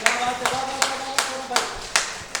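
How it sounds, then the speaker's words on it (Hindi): Crowd at a public gathering breaks into applause, with about seven loud, sharp bursts of clapping repeating at a steady pace, close and prominent. "उनके लिए तालियां आ जाएं"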